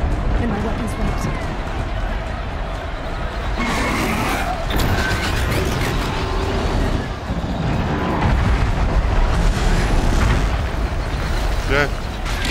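Heavy rumbling crashes and debris as a platform collapses in the video game Horizon Zero Dawn, a dense, loud, continuous roar with sharper impacts layered in, and voices talking over it.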